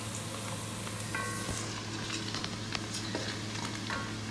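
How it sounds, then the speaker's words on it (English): Steady sizzling of onions browning in a pan for Goan fish curry, with occasional soft stirring scrapes, close and continuous with no talking. "Onions are frying beautifully. They're browning."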